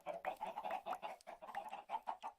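Minecraft chickens cluck in a rapid, rhythmic series of short, nasal calls, close and clear, with no talking over them.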